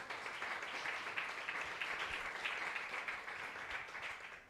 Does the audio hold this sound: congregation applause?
yes